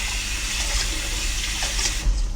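Tap water runs steadily and loudly into a pan to soak it, a close, continuous gushing stream that briefly shifts in tone near the end.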